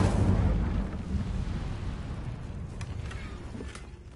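The Incendio fire spell in Hogwarts Legacy erupts with a loud, roaring burst of flame that slowly fades into a crackling rumble, with a few faint ticks near the end.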